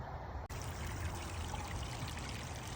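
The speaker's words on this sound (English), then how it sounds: "That water's coming through there, and it flows this way, under the bridge, this way, into this pond." Water flows steadily through a channel under a bridge into a pond at a water conservation district, a continuous soft rushing trickle close by, briefly interrupted near the start, with no talking.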